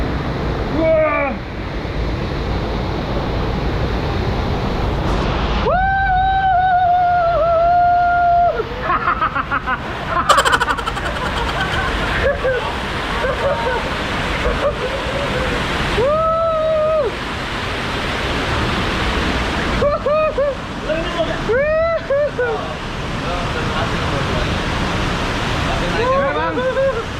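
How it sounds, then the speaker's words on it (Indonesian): Small waterfall in Lampung, Indonesia, a steady broadband rush of falling water running throughout, with excited voices speaking over it at intervals. "Air terjun"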